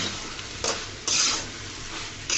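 Potatoes and peas with spices, cooked for ghugni, are stirred in a hot pan: a few scraping strokes rise over a soft, continuous sizzle, close and without talk.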